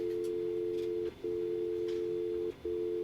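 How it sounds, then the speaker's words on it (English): A telephone sounds over the line on a morning call-in radio show, a steady electronic tone broken by two brief gaps, loud and clear with no talking. "Phone was ringing."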